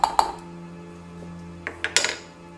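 Clinks and taps of a spoon against a bowl as a quarter cup of hemp seeds goes in over coconut cream, two sharp knocks at the start and a cluster near the end over a steady low kitchen hum.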